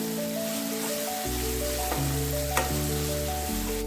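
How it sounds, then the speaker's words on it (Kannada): Okra pieces frying in hot oil in a pan for a South Indian palya, giving a steady close sizzle with soft crackle and a brief stir or scrape partway through, no talking. "ಚೆನ್ನಾಗಿ ಇದನ್ನು ಫ್ರೈ ಮಾಡ್ಕೊಳ್ಬೇಕು."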